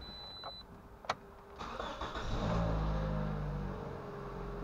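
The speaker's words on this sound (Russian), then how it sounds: "заводи, тормоз надави." A 2011 Toyota RAV4 engine cranks and catches after a couple of faint clicks, then settles into a low, steady idle, heard up close in a workshop during a CVT oil change.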